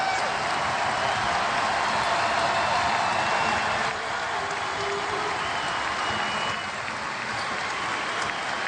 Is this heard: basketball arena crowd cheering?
yes